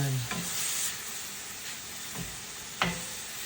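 Shrimp cooking in butter and oil in a pan make a quiet, steady sizzle. A few soft clinks of a utensil against the pan sound over it, with no talking.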